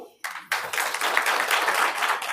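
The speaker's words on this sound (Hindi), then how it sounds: "ताली तो बजाओ।" An audience at a Brahma Kumaris spiritual talk breaks into clapping after a couple of brief early claps, settling into steady, moderately loud applause that continues to the end.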